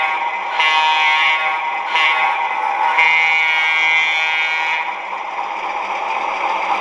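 A model railroad crossing signal sounds: a bright electronic ringing tone that repeats in pulses, loud and close, with no talking.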